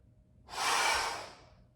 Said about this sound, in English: Exhale up, inhale down